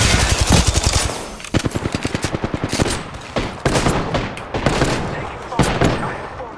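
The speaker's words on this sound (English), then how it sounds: "I'm spotted, taking fire." Video game gunfire, loud and close, with rapid automatic bursts and scattered single shots in an ongoing firefight.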